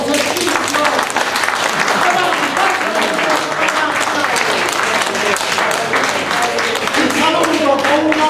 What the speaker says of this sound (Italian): Ricordatevi che dovete applaudire forte, perché l'applauso fa esercizio.